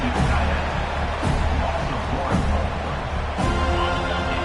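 Stadium crowd at a football game roars as the defense tries for a goal-line stop, a dense, sustained wall of cheering and shouting that swells slightly in waves, filling the whole stretch at a fairly loud, distant-sounding level.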